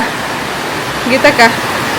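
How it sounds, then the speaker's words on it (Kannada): Dense, roaring downpour of heavy rain, with a person briefly speaking over it. "ಈಗಲು ಭಯಂಕರ ಬರ್ಸ ಬರೋಂದುಂಡು ಗೈಸ್"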